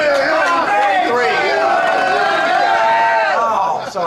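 A packed crowd shouts and whoops continuously during a Drumometer hand speed attempt at a 2003 drumming event, a loud dense roar of many voices, some yelling encouragement.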